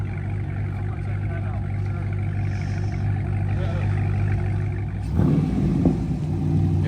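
A supercharged Dodge Hellcat with a mid muffler delete rumbles at idle, and its deep exhaust swells into a louder rev near the end, with people talking over it.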